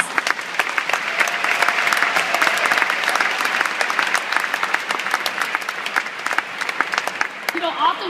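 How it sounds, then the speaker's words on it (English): Sustained audience applause at a school staff kickoff event fills the room with dense, even clapping for the whole stretch, moderately close, with no talk over it. "Let's give them a round of applause"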